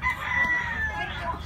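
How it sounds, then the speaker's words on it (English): Roosters crow and hens cluck around a hometown yard in Nasugbu, Batangas, a steady, fairly close mix of calls with no talk over it. "there's chickens everywhere"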